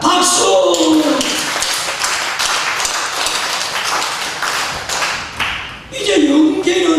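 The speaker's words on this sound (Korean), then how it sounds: "박수!" A church congregation claps together during a Sunday service at a Korean family church, a steady wash of applause that carries loud and close throughout.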